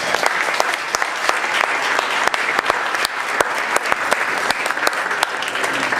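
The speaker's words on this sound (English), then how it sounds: "How about one more big round of applause?" A crowd claps steadily and loudly for city council candidates at a community forum, dense and sustained, with a few sharper individual claps standing out.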